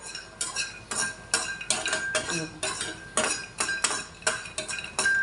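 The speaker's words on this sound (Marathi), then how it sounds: "बदाम छान भाजून घ्यायचे" Almonds roast in a pan being prepared for poha Govind laddu, stirred with a metal spoon that scrapes and clinks in a steady series of sharp knocks against the pan, close and clear with no talk.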